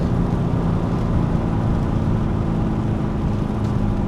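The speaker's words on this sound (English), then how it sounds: "It cracks when you shift up." A car engine droning loud and steady at close range, a continuous low rumble holding level without clear separate cracks.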